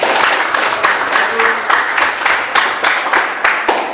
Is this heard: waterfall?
no